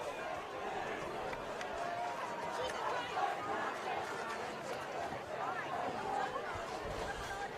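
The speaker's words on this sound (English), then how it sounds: "BR crowd is staying in it the entire time" Bridgewater-Raynham fans fill a varsity football game with steady crowd noise, a dense outdoor hubbub of chatter and cheering that holds at a constant level throughout.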